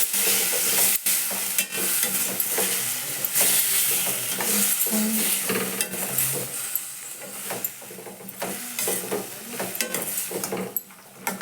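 A spoon stirs a ridge gourd and tomato curry with turmeric in a pan, sounding as a steady close sizzle of frying broken by repeated scraping and clinking strokes, with no talk.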